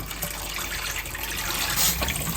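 A kitchen tap is turned on and water gushes steadily into the sink, a close, continuous splashing rush that swells briefly near the end, with no talking.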